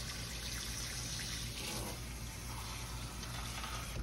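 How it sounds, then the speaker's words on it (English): Cold tap water runs steadily into a bowl to cover dried blueberries, a continuous close rushing and splashing flow with no talk. "So I'm going to get some cold water here."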